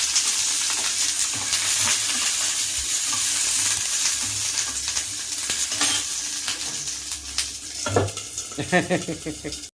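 Green chillies fried with peanuts in a pan for tamarind-leaf chutney, a dense steady sizzle with stirring, then louder clanks and scrapes of the utensil toward the end.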